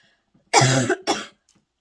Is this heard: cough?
yes